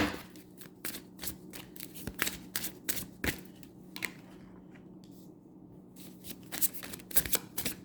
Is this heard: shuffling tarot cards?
yes